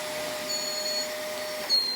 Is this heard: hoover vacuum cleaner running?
yes